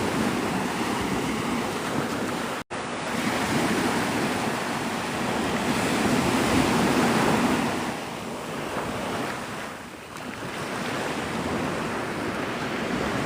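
Ocean surf rolls onto Navarre Beach, Florida, a broad continuous roar of breaking waves mixed with wind buffeting the microphone, swelling and easing over the span with a brief dropout near the start.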